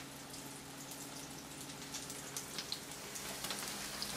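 Tempura sizzling in a frying pan of hot oil, a steady soft hiss with small scattered pops and crackles growing more frequent, close by and fairly quiet.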